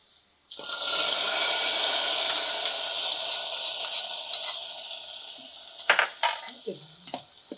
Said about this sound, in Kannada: ನಾನೀಗ ಬಿಸಿ ಬಿಸಿಯಲ್ಲೇ ಹಾಕಿದ್ದು, ಹಾಗೆ ಈ ಥರ ಸೌಂಡ್ ನೋಡಿ